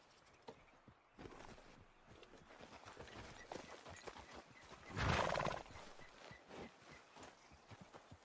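Horse hooves clip-clop steadily through a Red Dead Redemption 2 game scene, with a loud whinny bursting out midway over the ongoing trotting.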